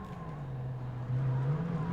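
Corvette race car in Gran Turismo 7 droning along with a steady low engine tone that rises slightly partway through, continuous and fairly close, no voices.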